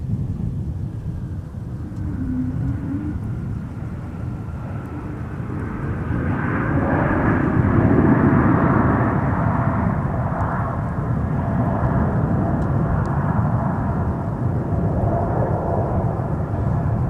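A jet airliner takes off at Minneapolis–Saint Paul airport, a distant low roar that swells and peaks midway, then rumbles on steadily.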